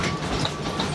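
The Wildlife Express train at Disney's Animal Kingdom rumbles along with a steady, broad mechanical roar and faint rail clatter, heard from on board, loud and continuous with no talking.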